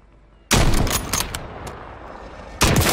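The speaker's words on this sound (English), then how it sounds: "Friendly precision airstrike inbound." Precision airstrike explosions in Call of Duty Warzone, two loud rumbling blasts in quick succession with crackling debris between them, close and dominant.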